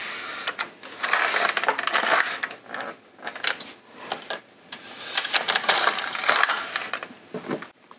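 An LK150 knitting machine carriage is pushed back and forth across two rows of yarn, making a loud clattering rush of mechanical clicks in repeated sweeping passes with short pauses between strokes, close up and with no talking.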